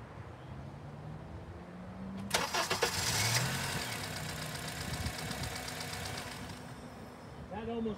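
A Honda engine with its intake cam sensor unplugged cranks briefly, catches and settles into an idle, a loud rising burst that then steadies into an even running hum up close.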